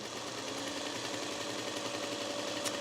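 A sewing machine runs at a steady fast pace, stitching pieces of a 'Summer Getaway' quilt kit from Fat Quarter Shop. It makes a continuous mechanical whir with a rapid needle patter, close and alone, with a brief faint click near the end.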